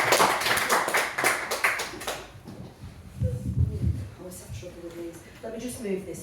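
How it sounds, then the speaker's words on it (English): An audience at a comedy festival show bursts into brisk clapping for a couple of seconds, then it dies away and a person starts talking. "start clapping, whooping and cheers."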